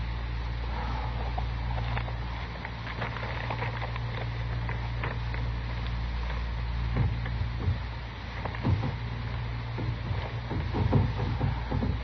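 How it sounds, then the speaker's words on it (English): Rattling in an old Gunsmoke radio drama, blamed on the wind: irregular light clicks, creaks and taps over a steady low hum, becoming busier toward the end. "Chester, quit that rattling."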